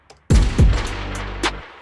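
A gunshot effect in a rap song mix hits with a sudden sharp crack and a booming low tail, followed by a second blast and a fainter later hit before cutting off.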